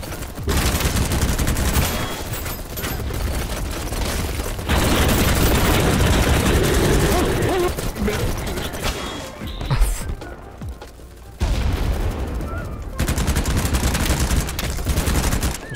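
Bursts of gunfire and stray bullets in BattleBit Remastered, loud dense volleys cut by brief pauses and sharp impacts, with a voice faintly present beneath.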